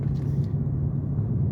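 Steady low engine rumble and road noise from a car cruising through a residential neighborhood in Reservoir Hill, Baltimore, constant and close with no talking.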